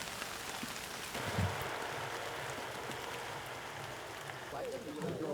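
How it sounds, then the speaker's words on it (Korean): Autumn rain falls at a mountain training ground near Gyeryong, a steady, even hiss of drops that continues throughout, with faint background sounds underneath. "겨울을 재촉하는 가을비가 내리는 날."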